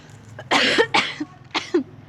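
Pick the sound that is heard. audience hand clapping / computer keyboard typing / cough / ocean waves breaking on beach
cough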